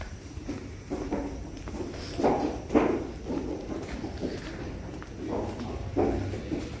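Horses at a Sindhi stud farm, hooves clopping on the ground in an irregular walking rhythm, fairly close and soft, with low background rumble.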